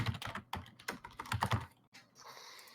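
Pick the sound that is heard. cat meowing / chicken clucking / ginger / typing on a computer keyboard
typing on a computer keyboard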